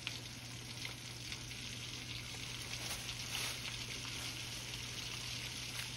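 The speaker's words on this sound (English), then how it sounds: "I'm gonna let that thing fry really, really good." Catfish fries in hot oil in a pan with a steady, dense crackling sizzle that holds evenly throughout at moderate loudness, with no talking.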